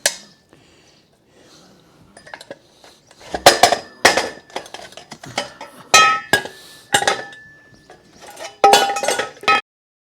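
Metal weight-tube castings from a Shopsmith woodworking machine clink and knock together as they are pulled apart, several sharp metallic taps in bursts, close by and fairly loud, with quiet pauses between them.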